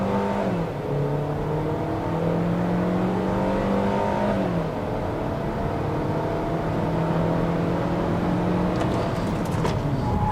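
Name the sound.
Hyundai Creta Ultimate 2.0 accelerating 0 to 100 km/h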